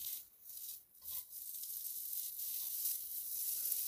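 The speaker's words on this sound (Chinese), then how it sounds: "将啲烟肉爆香咗先。" Bacon sizzling in a pan over medium heat while being stir-fried for braised dried scallops and sea cucumber, a steady close hiss with a few brief dips as the pieces are moved.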